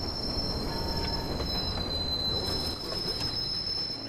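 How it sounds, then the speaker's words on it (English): In the Watch Dogs video game, a northbound train pulls into a station with loud, sustained high-pitched wheel squeal over a steady rumbling rail roar. "Northbound train arriving shortly."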